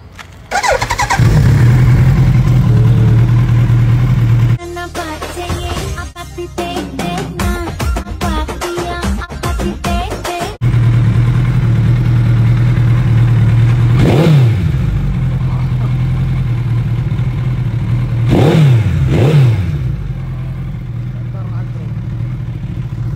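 A loud superbike engine idles close by, voices talk briefly over it, then the throttle is twisted twice in sharp rising revs.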